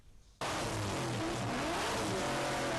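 Drift car on an indoor concrete track: the engine bursts in suddenly after a quiet moment, then revs hard and loud with shifting pitch, continuous to the end.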